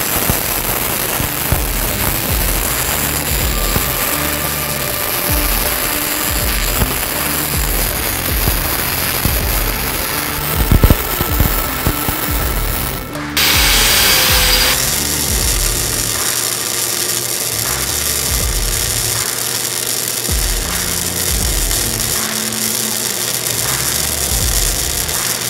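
Gasless flux-core arc welding on a steel plate during a 3G vertical plate test cap pass, a steady loud crackling sizzle that runs almost continuously with one brief break partway through.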